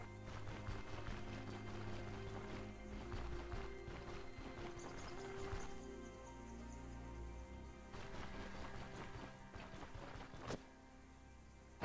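Horse hooves clip-clopping in the video game Stoneshard, a steady rhythmic patter of several horses moving continuously at moderate loudness under a bed of game ambience, with occasional sharper clacks.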